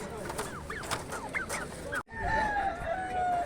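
A rooster crows amid a noisy crowd of clucking poultry at an animal market in Lublin, Poland, with rising calls in the first half and a long, sustained crow after a brief gap.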